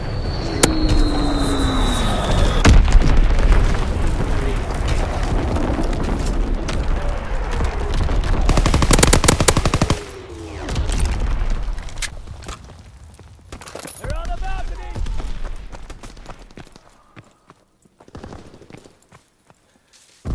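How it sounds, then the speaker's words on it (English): An artillery barrage in the video game Call of Duty: WWII: whistling incoming shells and heavy booming impacts in bursts, mixed with game voices and battlefield noise. "Artillery ready for orders. Waiting coordinates. Firing battery one."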